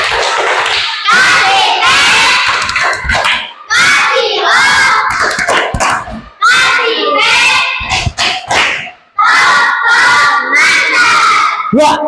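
Children in a classroom warm-up game clap together in a rhythmic group chant, loud and close, with bursts of clapping mixed with shouted, sung voices and short pauses between phrases.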